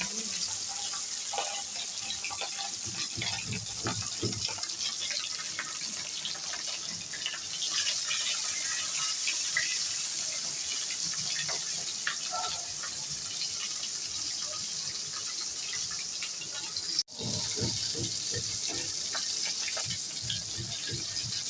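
Hilsa fish fry in hot mustard oil, giving a continuous bright, hissing sizzle close by that holds steady throughout, broken by one brief dip near the end.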